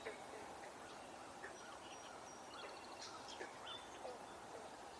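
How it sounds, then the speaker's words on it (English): Swamp sparrow and red-winged blackbird calls in a wetland, a scatter of faint chirps and short trills rising at a distance over steady outdoor background noise. "swamp sparrow, red-winged blackbird."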